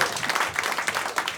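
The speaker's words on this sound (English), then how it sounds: "Round of applause for Fudgie, everybody." Applause from a comedy club audience, a brief dense burst of many hands clapping together, close and fairly loud, with no talk.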